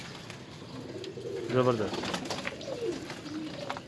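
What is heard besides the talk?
Ferozpuri pigeons cooing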